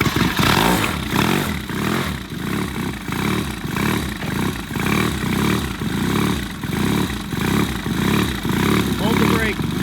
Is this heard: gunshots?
no